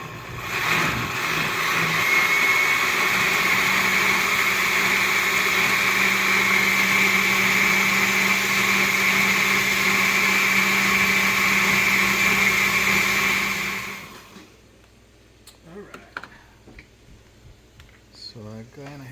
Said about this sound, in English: I did put a little bit of cumin and I'm just going to blend it